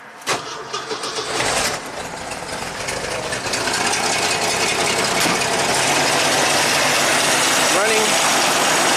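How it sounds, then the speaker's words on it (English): A 1985 Jeep CJ-7 Renegade, in neutral with the parking brake on, cranks briefly then its engine catches and runs at a steady, loud idle; a voice speaks briefly near the start. "So let's start up the Jeep"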